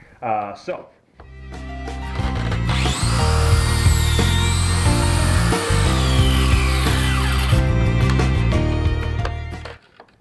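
A power saw rips a 2x4 into strips for an end grain cutting board, running loud and steady for most of the span after a short start, with a brief dip near the middle and spin-down at the end.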